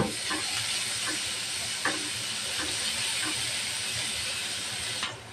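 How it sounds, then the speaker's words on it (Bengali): Onions frying in hot oil, being browned for a fish dish, a continuous loud hissing sizzle with faint stirring taps throughout, no talking. "এই তেলের ভিতরে দিয়ে দেব পেঁয়াজ।"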